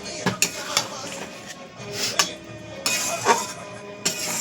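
A spatula scraping and clinking against a pan as food is stirred, giving sharp metallic taps and scrapes at an uneven pace, close by and moderately loud.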